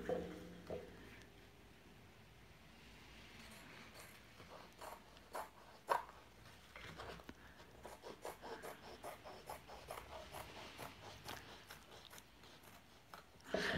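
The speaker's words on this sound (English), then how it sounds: "I just kind of butt my scissors up against the PVC. You can probably hear it a little bit there," Scissors butted against a PVC sheet during lantern making give off a faint, rhythmic scraping, with quiet rasping strokes that repeat steadily through the second half.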